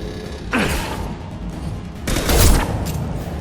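Hand cannon gunfire in the video game Mass Effect 2, two loud bursts of shots about two seconds apart over a steady background of game ambience, with no talk.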